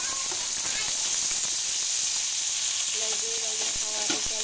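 Tomatoes hit a hot pan for chicken afritada and sizzle loudly with a steady frying hiss, with a few light stirring clinks near the end and no talking.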